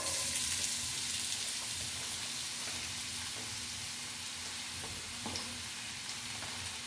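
Two large, thinly sliced onions shallow-frying in oil in a pan for a Kerala-style crab masala curry, giving a steady, close hiss and sizzle with faint stirring scrapes and no talk.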